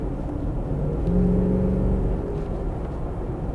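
An armored Lexus LX 570 slows under braking as a steady low road rumble and engine whir. A faint tonal whine rises briefly midway, with no voices over it.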